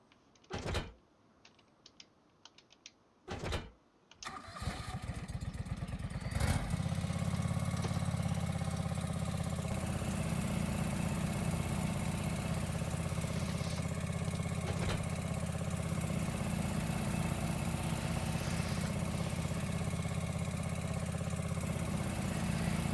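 Tractor engine without a cab in a farming video game. A few clunks come first, then the engine starts and settles into a steady, loud idle that drones on alone.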